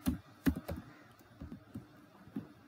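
Keys pressed on a computer keyboard for a software shortcut, a few sharp clicks then lighter irregular taps, close and quiet with no talk.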